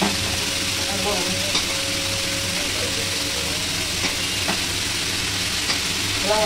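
Pumpkin and sweet potato sautéing in a pan, a steady close sizzle with occasional stirring scrapes, while voices talk over it throughout.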